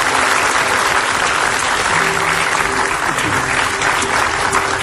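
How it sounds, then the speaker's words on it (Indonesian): Studio audience at an Indonesian TV talk show breaks into steady, loud applause that fills the whole stretch without a pause. "kasih tepuk tangan dulu buat mereka berdua"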